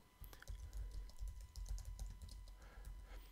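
Typing on a computer keyboard in a quiet room while text is entered into a screencast text field, a quick run of crisp, fairly faint key clicks with a dull thump beneath, no voices.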